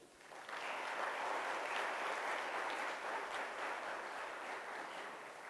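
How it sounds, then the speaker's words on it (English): An audience applauds Dr. Neil Bressler at an endowment award ceremony: sustained, even clapping from a full room that starts abruptly and holds steady for several seconds, no talking over it. "So like a big clap to him."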